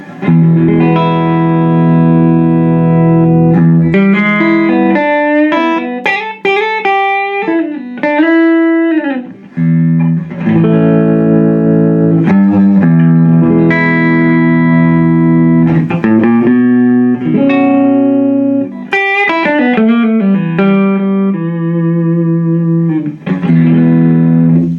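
An electric guitar plays a clean-toned melodic passage, sustained notes and slides ringing clearly, loud and up close with no talking.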